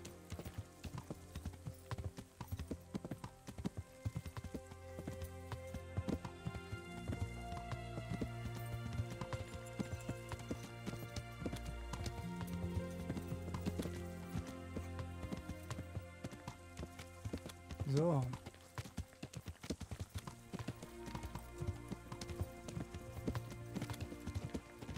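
Hooves of a horse clip-clop at a gallop in the medieval video game Kingdom Come, a quiet, rapid rhythmic pounding running steadily under a musical score, with one brief whinny partway through.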